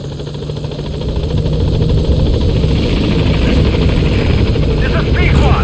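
B-Quad helicopter in Metal Gear Solid V arriving at a landing zone, its loud, steady rotor chop building in the first two seconds and then holding close and dense.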